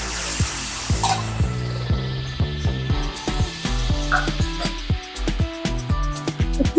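A paste of onion and green chilli fries in a pan with a continuous close sizzle, broken by frequent rhythmic knocks and scrapes of a spatula stirring against the metal, with no voices.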